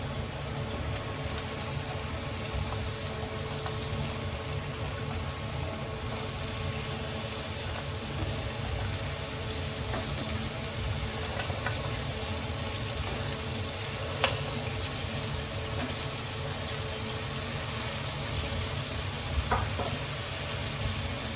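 Cleaned crab pieces with large claws sizzling and frying in a pan for a coconut sukha dish, a steady close hiss with occasional faint knocks of stirring, no voices.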